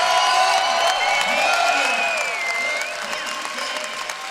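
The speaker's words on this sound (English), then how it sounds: "I think it's a standing ovation from the crowd here in Las Vegas" A standing ovation from a big arena crowd in Las Vegas at an archery championship shoot-off, loud sustained applause with cheers and whoops that slowly eases off.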